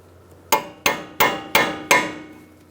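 Five sharp, evenly spaced hammer blows ring out on a cold chisel, staking a ball joint nut on a 2002-2006 Honda CR-V front lower ball joint, each strike clean and close with a short metallic decay, no talk.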